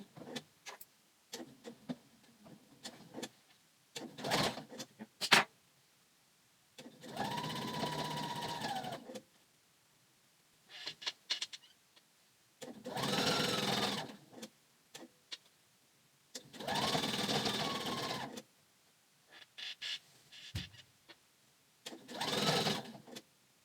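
A sewing machine stitches a Joss pant in several bursts of rapid mechanical whirring, each a few seconds long, separated by quieter pauses with small clicks and handling noises nearby.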